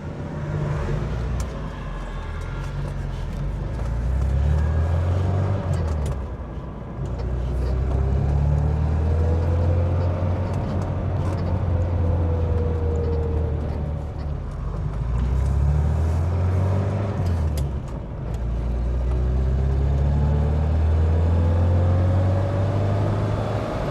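A Rover P6 2000 TC engine drones steadily from inside the moving car with its Webasto sunroof open, the note rising and dipping through gear changes over road and wind noise.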